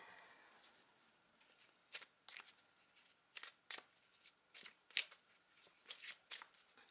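A Tarot de Marseille deck is shuffled by hand in a quiet room: short, crisp riffling bursts repeat irregularly, each one a brief papery flutter, with faint hiss between them.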